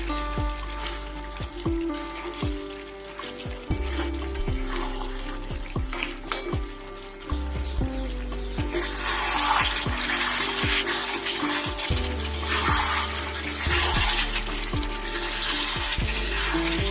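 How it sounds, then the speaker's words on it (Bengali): Water poured into a sizzling pan of chicken curry with potatoes, the loud frying hiss swelling into a bubbling, watery rush midway, with rhythmic stirring scrapes throughout. "এইবার আমি একটু অল্প করে পরিমাণ মতো জল দিয়ে দেব, নাহলে আলুগুলো সিদ্ধ হবে।"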